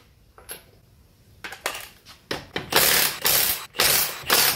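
Wheel lock key and ratchet loosening an aftermarket wheel nut on an automatic Honda Civic, a series of close ratcheting clicks and grinding bursts that grow louder and more sustained, with no talk.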